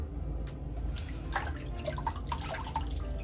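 Running water rinsing a straight razor during a wet shave, a steady close trickle with small drips and splashes, fairly quiet, no voices.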